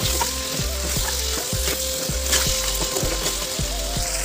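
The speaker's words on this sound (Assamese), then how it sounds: "গ'ল অলপ কাঢ়ি ল'লোঁ শুকান মাংস" Dried meat fries in a pan with a steady sizzle, and a metal spatula scrapes and clacks against the pan in a regular rhythm of stirring strokes.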